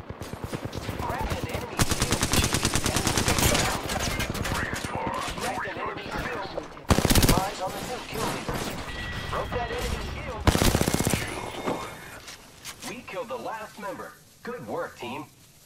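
Hemlock rifle gunfire in Apex Legends comes as rapid bursts of sharp shots with loud cracks, punctuated by a few heavier blasts, while a player talks over the action and game sounds fill the gaps.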